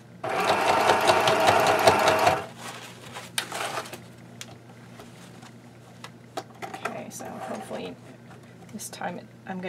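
A sewing machine stitches Velcro onto fabric for a travel case belly band, running in a loud rapid burst for about two seconds, then stopping; faint handling clicks and rustling follow.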